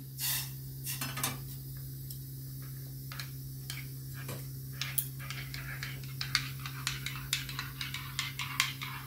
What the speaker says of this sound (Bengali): গুঁড়ো দুধটা আমি অল্প গরম জলে গুলে নিচ্ছি।